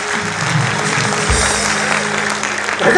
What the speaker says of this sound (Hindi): बजा तालियां